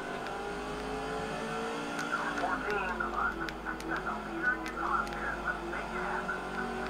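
Race cars running laps at Dodge Raceway in the NASCAR 05 Busch Series video game, a steady engine drone with rising and falling pitch under continuous commentary.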